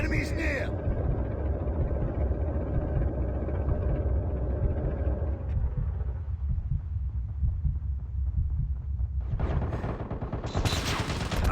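Gunfire in Call of Duty Mobile, rapid shots and thumping bursts rattling repeatedly under excited talk, fading toward the middle before a sharp loud burst near the end.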